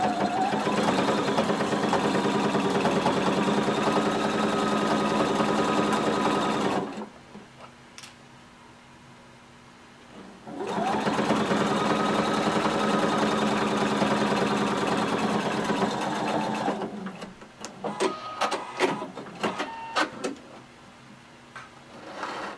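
Sewing machine stitching a fabric seam from the bottom up, a steady loud mechanical hum in two long runs separated by a pause, ending with scattered handling clicks and taps.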